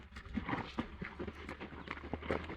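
Two mares led out for a short ride around the village, their hooves knocking in an uneven clip-clop rhythm close by, with a low steady background underneath.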